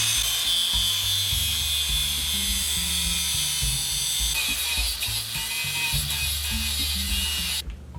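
An angle grinder cuts down bolts during a rear brake and five-lug swap on a 240sx, sounding as a loud, steady high-pitched whine with wavering pitch that runs nearly throughout, then stops abruptly at the end.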